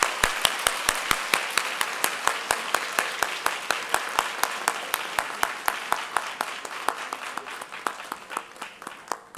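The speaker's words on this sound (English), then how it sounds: "You give the round of applause." A university lecture audience applauding in a hall, sharp separate claps in a fairly even rhythm, loud at the start and gradually thinning out.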